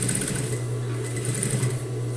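A sewing machine stitches a seam along a zippered cosmetic pouch, running as a steady, close, continuous mechanical hum and whir with no pauses or talk.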